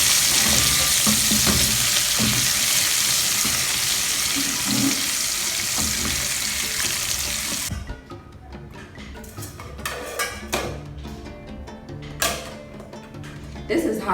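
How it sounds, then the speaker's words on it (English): Sliced onions and momone, a salted fish, fry in a pan for a Ghanaian etor dish, hissing loudly and steadily for about eight seconds. The sizzle then drops away to quieter clattering and stirring sounds. "We leave it to fry a bit. Add our onions, sliced onions."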